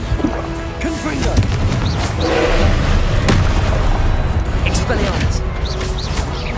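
Booming blast of the Confringo spell in Hogwarts Legacy, a dense roaring rumble with thuds that swells in the middle, mixed with spoken voices over the game sound.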